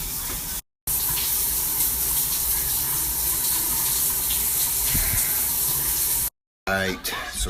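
A home shower runs steadily, a dense continuous hiss of spraying water that fills nearly the whole stretch, broken by two short silent gaps, with a brief burst of other sound near the end.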